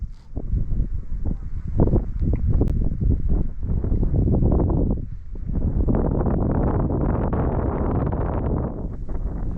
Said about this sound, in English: Hope the wind's not too much of a trouble.